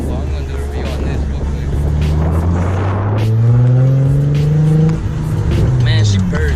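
A car engine idles and revs near the microphone, rising in pitch through a couple of swells before settling, while someone talks over it.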